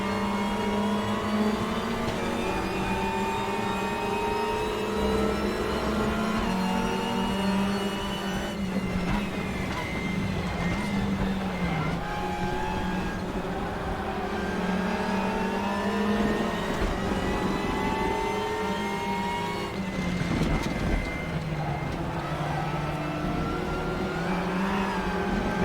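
A race car engine in the Raceroom racing game drones and revs continuously, pitch rising and dipping through gear changes as the car corners, loud and close throughout.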